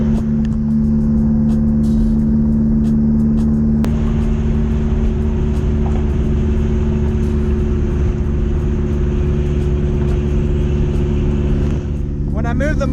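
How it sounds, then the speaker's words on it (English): A Porsche 944 with a derestricted Lindsey Racing 2.5-inch exhaust cruises in fifth gear at about 60 mph, giving a loud, steady low drone mixed with wind rush on the microphone. "Cruising in 5th gear at about 60 miles an hour."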